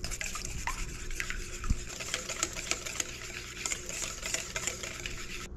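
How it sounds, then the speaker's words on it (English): A whisk beats crab cake sauce ingredients, including Worcestershire, an egg and black pepper, in a bowl, giving a fast continuous scraping, clicking rattle with a few sharper taps, close up and without speech. "We're just gonna whisk all this together."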